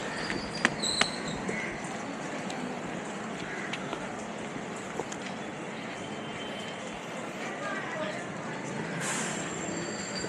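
A train rolls along a station platform in Bengaluru with a steady, loud rumble of wheels and carriages, a few sharp creaks and clicks on top, and a faint voice in the background.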